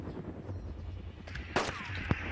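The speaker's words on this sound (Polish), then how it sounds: "Strzelam do zombiaka." Shotgun blasts fired at a zombie in the video game Arma 2 DayZ, two sharp, fairly distant reports standing out from a low ambient game background.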